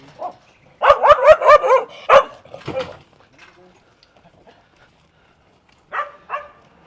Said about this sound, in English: We've just set the dogs off there.